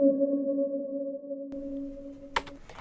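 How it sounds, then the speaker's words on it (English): A sustained synth tone hums, then a short bright electronic pluck hits near the end, sounding spacey and isolated with no talking. "this little spacey pluck coming in, and this is kind of just acting as an accent hit on every little bar"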